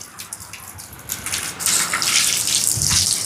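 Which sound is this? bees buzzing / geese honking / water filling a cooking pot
water filling a cooking pot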